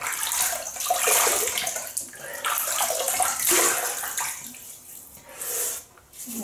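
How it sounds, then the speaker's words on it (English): Tap water runs and splashes steadily into a sink while the face is wetted before a shave with a 1946-48 Gillette Aristocrat double-edge razor, close and continuous with brief dips near the end. "So I'm just going to wet the face."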